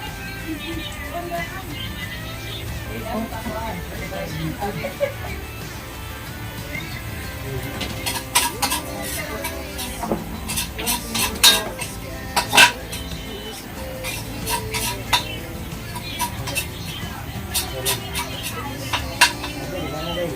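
Garlic fries in a pan until brown, a steady sizzle underneath, joined midway by a run of sharp metal utensil clinks and scrapes against the pan, close and moderately loud.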